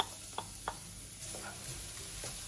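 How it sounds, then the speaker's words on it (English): Chopped garlic frying in oil in a wok over medium heat, a quiet steady sizzle with a few light clicks of stirring, close and alone. "At medium heat, we'll fry it until we can smell the garlic"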